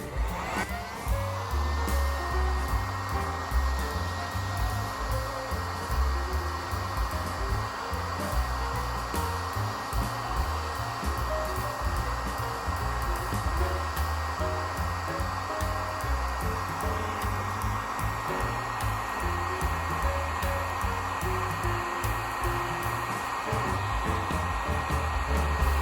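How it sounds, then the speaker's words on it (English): A heat gun dries moisture out of a stripped wooden table during restoration. It blows with a loud, constant roar like a hair dryer, close up and steady for the whole stretch, with no voices. "the last thing is going to be using the heat gun to see if the moisture can be dried out with that"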